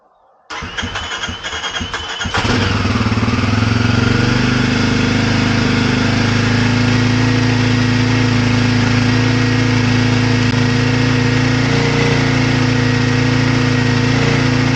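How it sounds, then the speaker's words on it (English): A motorcycle fitted with a lithium-ion battery cranks briefly for about two seconds, catches almost at once, then settles into a steady, loud, close idle that runs on alone without talk. "This bike has never started that fast."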